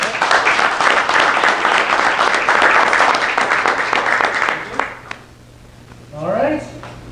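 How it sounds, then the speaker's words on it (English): Demo day audience breaks into loud, sustained applause that fades out after about five seconds, followed by a brief spoken voice. "Let's give our 3 teams another round of applause."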